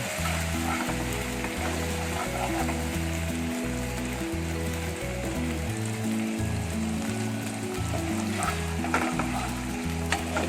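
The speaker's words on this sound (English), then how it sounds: "let us add our paste and saute it till it cooks" Garlic paste with Kashmiri red chili sautéing in a kadhai for dhaba-style kadhai paneer, a steady sizzle under prominent background music that runs throughout.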